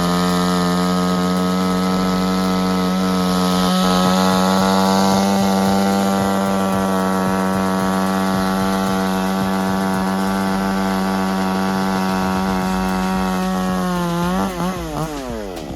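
A modern chainsaw cuts through wood during tree cutting, its engine droning loud and steady at high revs throughout, then the pitch wavers and drops near the end.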